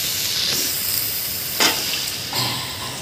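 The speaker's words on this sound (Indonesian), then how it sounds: "kita aduk-aduk lagi ya" Seblak sizzles steadily in a hot frying pan with soft hissing, broken by a few sharper scraping stirs of the spoon against the pan; close and moderate, with no talking.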